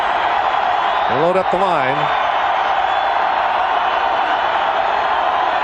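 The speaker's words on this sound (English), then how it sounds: "The crowd's really enjoying this BYU defensive stand." A large football stadium crowd during a 1992 Penn State at BYU game roars in a steady, sustained wash of cheering while a commentator talks over it.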